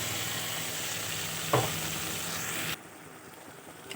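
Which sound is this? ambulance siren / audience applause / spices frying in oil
spices frying in oil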